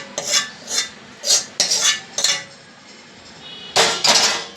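A spoon stirs a hot wheat flour laddu mixture, giving a run of short, sharp metallic scrapes and clinks against the pot in uneven bursts with quiet pauses between, close by and with no speech.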